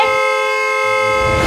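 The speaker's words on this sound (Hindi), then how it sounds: "अरे कौन है ये नॉन स्टॉप हॉर्न बजा रहा है?" A vehicle horn blares continuously and loudly, a steady held tone with no breaks, late at night outside a home.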